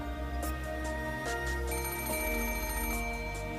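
An old-style telephone bell rings in the visual novel game Umineko When They Cry, a few bright repeated rings over a sustained musical backdrop.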